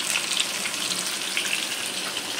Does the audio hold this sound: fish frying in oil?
yes